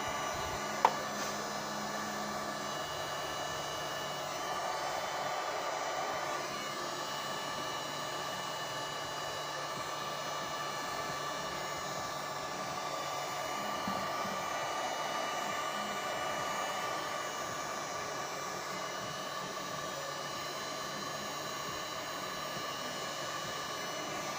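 A heat gun blows continuously while warming the engine cover of an Opel Insignia A16LET, a steady, fairly faint airy whir with no breaks.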